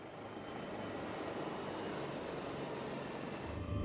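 A steady, loud roar of a Swiss Air-Zermatt rescue helicopter on the Matterhorn fills the whole stretch with constant broadband noise and no voices.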